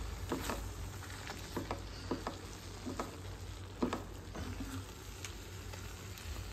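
Soaked tamarind stirred into a simmering ridge gourd and tomato chutney in a pan gives soft sizzling and scraping stir strokes, fairly quiet and steady, with a low hum underneath.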